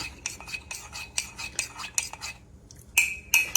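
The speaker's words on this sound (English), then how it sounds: "And I need to stir it again because it's trying to clump up in there." A spoon stirs cornstarch into chicken corn chowder in a pot, clinking and scraping in a quick, regular rhythm of close strokes. After a short pause, a few louder scrapes follow.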